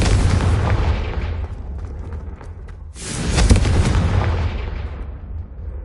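A Confringo spell explosion in a Harry Potter-style witchcraft setting bursts out as a loud, rumbling boom, with a second swelling blast following a brief dip, dense and close with a long noisy decay.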